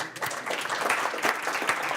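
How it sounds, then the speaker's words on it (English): Brief applause from an audience at a presentation on European territorial analyses, a short burst of scattered clapping with uneven individual claps that runs about two seconds at moderate level. "Applause now, yeah."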